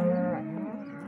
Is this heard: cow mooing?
yes